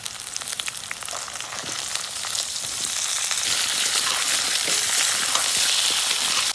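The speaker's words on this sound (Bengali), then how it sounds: "পেঁয়াজগুলো লাল করে ভেজে নিয়েছি, এবার আলুগুলো দিয়ে দেবো।" Steady, dense sizzling of potatoes frying in hot oil with onions already fried red, growing slightly louder and fuller midway through, with no talking.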